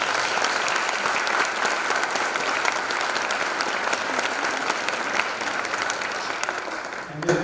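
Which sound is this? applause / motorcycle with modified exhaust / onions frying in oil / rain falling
applause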